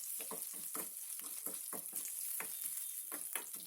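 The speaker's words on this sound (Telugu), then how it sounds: "ఎట్ ది సేమ్ టైం ఎండుమిర్చి కరివేపాకు కూడా వేగుతాయి" Dried red chillies and curry leaves fry in hot oil for a beetroot chutney tempering, giving a steady loud crackling sizzle with repeated sharp pops throughout, close up and without talk.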